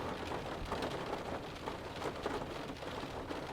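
Steady rain falls outside a car parked by an old academic building at night, a soft, even patter with no voices over it.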